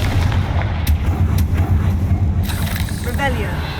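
Confringo blasting spell cast in the video game Hogwarts Legacy, a burst of explosive impacts and booms under a steady low rumble of game music and effects.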